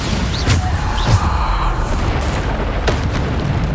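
Bombarda explosion spell in Hogwarts Legacy, several loud booming blasts over a dense rumbling battle din, the impacts thudding in quick succession before fading.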